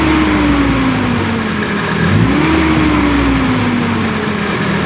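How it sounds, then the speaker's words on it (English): Nissan D21 engine revved by hand under the hood, a mid-pitched motor that climbs, settles, then is blipped again before easing off, close and fairly loud with no talking. "So I'm going to manually rev the engine and show you guys real quick."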